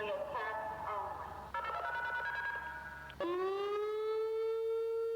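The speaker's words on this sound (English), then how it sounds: "you have electronic sirens that are literally like electric speakers" An electronic American tornado warning siren blares alone in a steady, loud wail, its tone shifting and then rising into a sustained high pitch.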